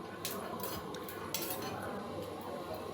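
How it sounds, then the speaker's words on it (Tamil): Peanuts dry-roasting in a pan for peanut chutney, with steady metallic scraping and clinking of a utensil against the pan over a faint sizzle, close and continuous. "வேர்க்கடலையை கொஞ்சம் கருகாமல் பார்த்து வறுத்து எடுத்துக்கலாம்."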